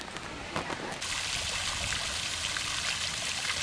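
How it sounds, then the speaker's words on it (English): A stone water feature in a sculpture garden trickles and splashes continuously, a close, steady wash of falling water with no voices. "here we have another tranquil water feature"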